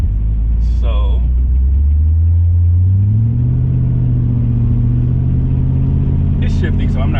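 A car with a supercharged Ford Coyote V8 swap drives along, its engine droning loud and close, then the pitch climbs as the revs rise after a gear change; brief higher clicks break in near the start and end.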